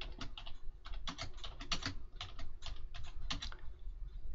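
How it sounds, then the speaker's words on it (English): Rapid typing on a computer keyboard, with irregular bursts of clicky keystrokes close to the listener, heard alone with no talking. "I'll grab a text box here, and I'm going to type in it, Bob and Sue."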